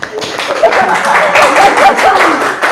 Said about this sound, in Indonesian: Tepuk tangan mungkin.